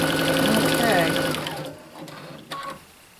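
A sewing machine runs a serpentine stitch on a quilt with a loud, steady mechanical whir for about a second and a half, then stops, followed by quieter handling clicks.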